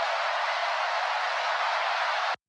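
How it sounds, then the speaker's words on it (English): Crowd noise sample layered into a music drop, a dense steady wash of cheering roar that holds evenly at moderate volume, then cuts off abruptly. "I'll add this instance of crowd noise."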